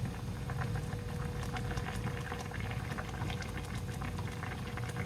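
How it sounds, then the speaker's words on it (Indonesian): Broth boiling in a pot for cabbage buntil stuffed with sardines, a continuous bubbling and gurgling at close range, steady and moderately quiet with no talk. "Dan ini akan saya biarkan mendidih sebentar."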